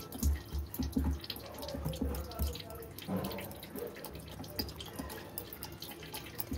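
Water poured from a bowl into gram flour for dhokla batter, soft irregular splashing and trickling up close, fairly quiet, with no talk over it.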